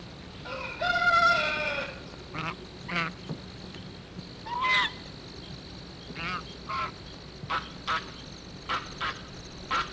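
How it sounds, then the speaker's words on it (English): Three backyard chickens and a rooster at a rural homestead, with one loud drawn-out crow near the start followed by scattered short clucks and squawks, moderately close, with no talk. "We have a cat, which had a litter of kittens, and three chickens and a rooster."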